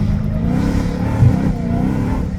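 A Dodge Challenger Hellcat Redeye revving on a wet road in the rain, a loud close engine roar that rises and holds steady throughout.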